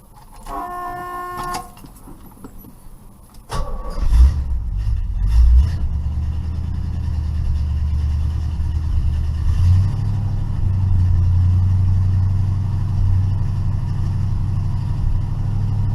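A 1969 Pontiac Firebird V8 without a choke cranks briefly, then catches and settles into a loud, steady low rumble that stays close throughout. A whirring electrical sound comes first, with no talking.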